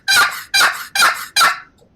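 A turkey box call played up close, four loud, raspy yelps in an even rhythm, each scratchy stroke cutting off sharply, with no other sound around them.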